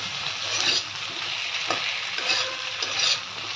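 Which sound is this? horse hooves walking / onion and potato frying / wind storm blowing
onion and potato frying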